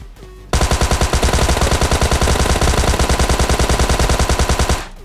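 Tommy gun fire in PUBG Mobile Lite: a loud, sustained automatic burst of rapid, evenly spaced shots lasting about four seconds, then cut off abruptly, with no talk.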